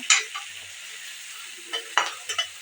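Onions fry in a pan with a faint sizzle under a few sharp spatula scrapes and clatters: one burst at the start and a cluster near the end, quiet in between.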